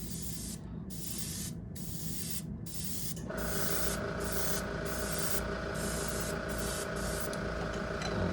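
Airbrush spraying a light coat of primer at around 18-20 PSI, a close continuous airy hiss that pulses on and off at first, then holds steady with a faint higher tone.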